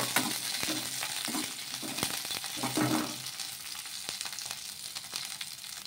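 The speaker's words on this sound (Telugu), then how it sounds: "ఇలా కొంచెం పచ్చిమిర్చి మగ్గిన తర్వాత ఇందులోకి కొంచెం చింతపండు కూడా వేసుకొని మరి కొద్దిసేపు మగ్గించుకుందాము." Green chillies and tamarind sautéing in oil in a kadai give a soft, steady sizzle with a few scraping stir sounds, close and fairly quiet, with no talking.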